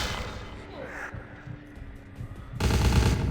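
Gunfire in Vampire: The Masquerade - Bloodlines: quieter rattling shots at first, then a loud, dense burst of machine-gun-like fire over the final second.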